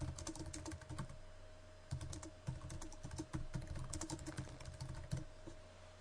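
Steady typing on a computer keyboard, quick close key clicks in short runs with brief pauses, fairly quiet and with no voices.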